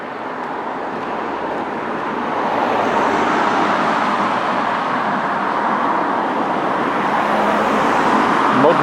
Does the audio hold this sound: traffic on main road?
yes